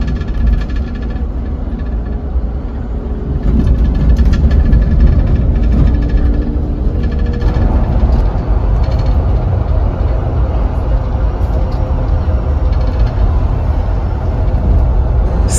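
An MSRTC 9-meter electric mini bus cruises at average speed on the Borivali–Thane–Nashik run, a steady low rumble and vibration filling the cabin throughout, with faint voices underneath.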